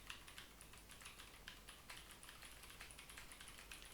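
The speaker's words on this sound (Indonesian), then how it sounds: "sekarang gue mau coba ngetik di keyboard Blue Switch" Fast, steady clicking keystrokes on a blue switch mechanical keyboard, each press crisp and sharp in a continuous typing rhythm, heard faintly through a headset microphone with background hiss.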